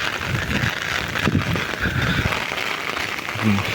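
Heavy rain pouring down outdoors, a dense continuous patter and hiss on surfaces, with faint wind and a low rumble beneath.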